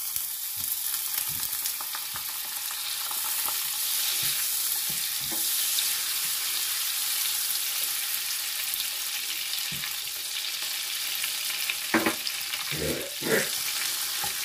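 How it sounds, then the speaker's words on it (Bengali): Butter melts and sizzles in hot olive oil in a pan, a steady dense frying hiss lasting throughout, with a few louder clinks and scrapes near the end. "এর মধ্যে আমি বাটার দিয়ে দিব"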